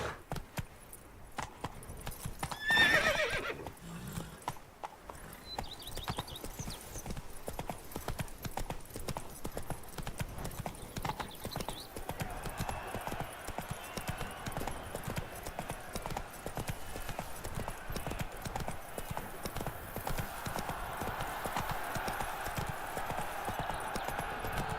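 Horse hooves in The Witcher 3: Blood and Wine keep a steady clip-clop rhythm throughout, with jangling tack and a brief whinny near the start.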